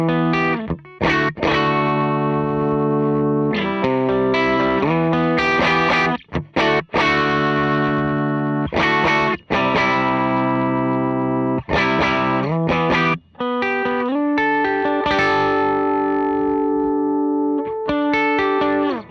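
Electric guitar through an OKKO Twin Sonic pedal, distorted with an effects-unit sheen, playing sustained chords and notes in close, loud bursts with short gaps between phrases.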